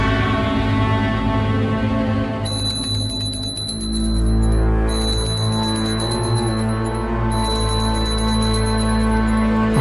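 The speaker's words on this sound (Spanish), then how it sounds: "Por si acaso la campanilla." A small hand bell rings in repeated bursts of bright, sustained tones, fairly close and loud, over a steady low background hum.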